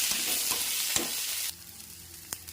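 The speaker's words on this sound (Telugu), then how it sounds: "కరివేపాకు, ఎర్రగడ్డలు, తెల్లగడ్డలు అన్నీ బాగా ఫ్రై చేసుకోవాలి" Oil sizzles loudly as onions, garlic, curry leaves and spices fry, with spoon scrapes and clicks; the hiss drops abruptly halfway, leaving quieter sputtering.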